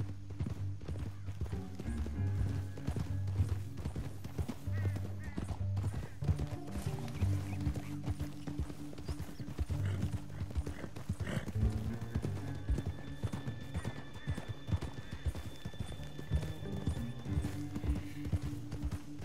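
Horse hooves clip-clop steadily at a gallop in Red Dead Redemption 2, a continuous close rhythmic pounding with occasional whinnies over a low droning game score.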